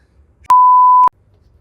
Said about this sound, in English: beep that part out, YouTube